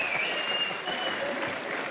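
Studio audience at a comedy talk show clapping, dense and steady applause filling the room for a couple of seconds, with no talking over it.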